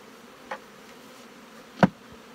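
Honeybees buzzing around frames and a box while being shaken in, a steady low hum with two brief sharp thumps, the second louder, and no voices.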